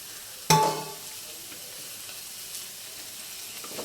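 Capsicum hits a hot pan of vegetables with a sudden sizzle that quickly fades into a soft, steady frying hiss with faint stirring.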